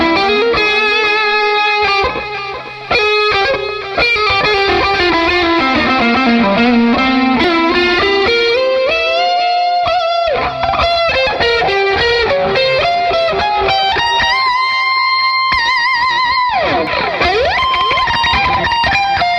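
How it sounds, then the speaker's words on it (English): Blue JV60 electric guitar driven through Scattered Abroad Guitarworks fuzz and treble boost pedals, a loud, unbroken run of saturated notes with bends and slides, briefly dipping early on, played alone. "a fuzz and a treble boost would not be my first choices for a powerful pedal pairings episode"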